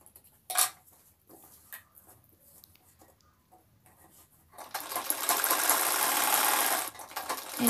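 A sewing machine stitches a narrow folded hem into fabric, a few short bursts and light clicks giving way to a steady, loud whirring run that stops abruptly near the end.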